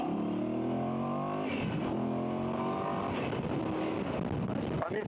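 Voge DS800X Rally motorcycle with an 800 engine accelerating hard, its engine note rising through repeated climbs as it shifts up, loud and steady throughout with wind noise.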